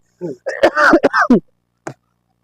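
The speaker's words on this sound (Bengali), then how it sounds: "কথার মাঝে কাশি আছে।" A close, rough throat clearing and cough on a house rooftop in a few quick bursts, then a short final grunt after a pause.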